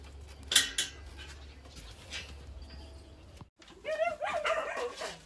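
A golden Phu Quoc dog, boxed for shipping, lets out a few short barks and whines near the end, close by, after quieter ambient noise and a faint bird-like call.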